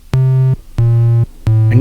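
Triangle-wave oscillator on a Deluge synthesizer sounds three repeated low sustained notes with soft overtones, evenly spaced and clean, alone.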